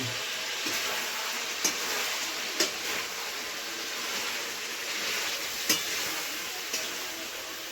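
Chicken stirring in a hot pan, a steady soft sizzle with occasional sharp clinks of the spoon against the pan at irregular intervals, close and moderately quiet, with no talking.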